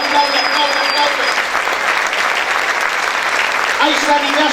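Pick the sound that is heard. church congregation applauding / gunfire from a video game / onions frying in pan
church congregation applauding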